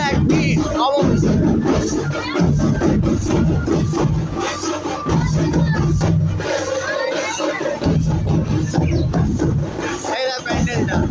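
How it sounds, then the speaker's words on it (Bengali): A dense festival crowd mills around a Jagadhatri Puja pandal in Chandannagar, a loud continuous wash of many overlapping voices, shouts and chatter close by, with people talking throughout. "ভিড় দেখ, ভিড় অবশ্যই।"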